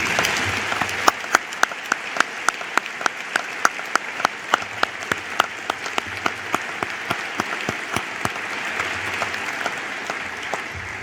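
A graduation audience applauds faculty and staff with sustained, even clapping from a large crowd, a dense wash of hands with crisp individual claps popping out near the front, loud and unbroken for the whole stretch.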